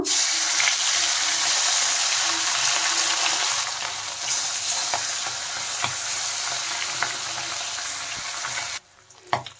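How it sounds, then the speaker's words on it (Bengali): Fish sizzling loudly and steadily in hot mustard oil in a kadai, a dense frying hiss with scattered crackles that cuts off sharply near the end, leaving a few faint clinks. "তেল গরম হয়ে গেছে, এখন মাছগুলো আমি ভেজে নেব।"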